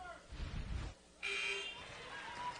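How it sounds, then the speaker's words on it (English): A basketball game buzzer sounds during a Radford vs Marshall college game. It comes as a sustained, moderately loud tone that follows a burst of crowd noise and then holds steady over the arena murmur. "as he shot it, the buzzer had sounded"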